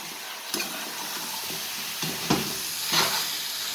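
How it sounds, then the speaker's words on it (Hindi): Tomatoes being stirred and fried in a pan for mutton karahi give a steady sizzle, with several scraping stirs of the spoon breaking through at intervals. "पहले तो हमने टमाटर डाल दिए, टमाटर को अच्छा सा मिक्स करते हैं"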